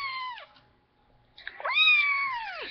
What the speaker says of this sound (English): today I shall show you my new kitten, named Duke.